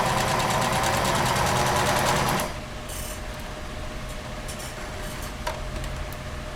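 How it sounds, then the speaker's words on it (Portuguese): A sewing machine stitches stretch elastic onto a plus-size racerback bra, running loud and fast for about two seconds before stopping, followed by quieter handling noises and a brief click. "E eu vou dar a leve esticadinha e costurar."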